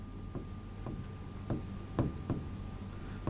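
Chalk tapping and scraping on a classroom board during a chemistry lesson, several short strokes in an uneven rhythm, close and fairly clear over a low steady hum.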